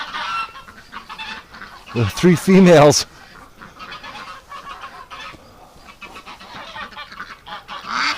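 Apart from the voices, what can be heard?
upset geese honking while ducks mate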